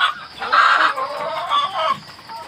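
Farm chickens clucking in a pen, several close, loud overlapping clucks and squawks in quick bursts with no talk.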